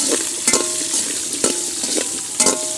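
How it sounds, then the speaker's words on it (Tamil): Chopped green chillies sauté in a pan for sambar with a continuous close sizzle, punctuated by several sharp spoon scrapes and stirring clicks at a loose rhythm. "ரெண்டு பச்சை மிளகாய் பெரிய கட் பண்ணி வச்சுருக்கோம் அதையும் சேர்த்துக்கலாம் நல்லா வதக்கி விட்டுடலாங்க"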